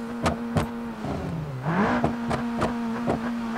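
In BeamNG.drive, a simulated car engine revs steadily while the wheels stay still, one rising whine swelling midway, with sharp, regular knocking clicks over the drone.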